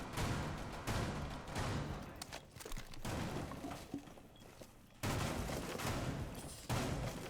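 Shotgun blasts and scattered gunfire from a Rainbow Six Siege match on the Kafe map, several sharp reports breaking through a busy, dense game mix with no talk.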